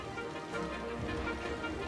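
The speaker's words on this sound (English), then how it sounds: "There's a lot of rain, and it's very loud" Heavy in-game rain from the city-building game Cities: Skylines, a steady, loud broadband hiss of downpour filling the whole clip with no other sounds standing out.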